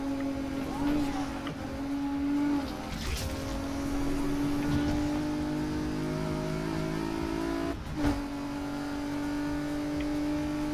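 A 2008 Nissan 350Z races in the video game NFS Unbound, its engine humming a steady sustained tone with brief rev shifts and a couple of sharp transients, while voices talk faintly alongside.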